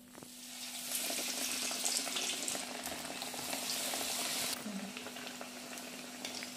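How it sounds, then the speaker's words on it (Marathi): Potato and bread fritters coated in batter deep-fry in hot oil, a dense, close sizzle that swells after the first second and eases toward the end, with no voices and a steady low hum beneath. "बघा, असं लालसर आपल्याला चांगलं तळून घ्यायचं आहे।"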